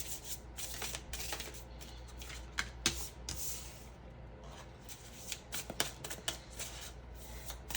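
Tarot cards shuffle close by in soft, repeated riffling and rubbing strokes, quiet and continuous with small bursts of card slaps.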